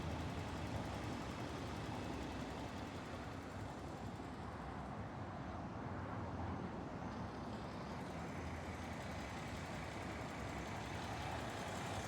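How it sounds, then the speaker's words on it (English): A 1983 Nissan Datsun 280ZX with a fuel-injected 2.8-litre inline six idles steadily and smoothly, a constant close-up mechanical hum with no speech over it. "Engine's currently running really nice, really smooth, starts easily"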